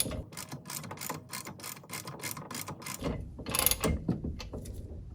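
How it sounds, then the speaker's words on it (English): A 3/4 socket on a ratchet turns a shift shaft bushing into a boat outdrive lower unit, making a fast, even run of sharp metallic ratchet clicks that carries through the whole stretch with a brief scrape near the end, no talking. "I'm just using a 3/4 socket and ratchet, and I'm going to screw this bushing in until I feel some tension"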